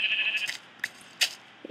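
Sheep bleating in the video game Minecraft: one drawn-out bleat up front, followed by a few short clipped bleats, close and clear with no talk.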